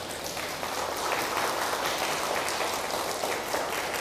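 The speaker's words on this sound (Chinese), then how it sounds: "要鼓掌一下哈" Lecture audience at a Buddhist sutra talk breaking into steady applause, a soft continuous patter of many hands clapping, fairly quiet and even throughout with no speech over it.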